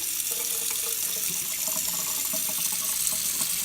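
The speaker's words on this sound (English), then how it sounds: "turn on the cold water" Cold water runs steadily from a kitchen sink tap, a continuous close splashing stream filling a container of soaking sprout seeds, with no voices over it.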